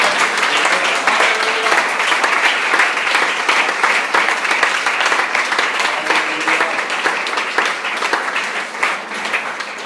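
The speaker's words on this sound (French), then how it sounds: "Applaudissons le Seigneur." A church congregation applauds loudly and steadily throughout, dense sustained clapping filling the space during a French-language worship service, with faint voices beneath.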